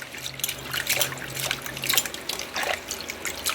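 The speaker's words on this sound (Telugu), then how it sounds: "కోసుకున్న గోంగూరని ఇలా కడుక్కొని పెట్టుకుందాం అన్నమాట. బాగా కడగాలి" Freshly cut gongura leaves are washed by hand in water, with steady splashing and trickling close by, continuous and fairly loud with no talking.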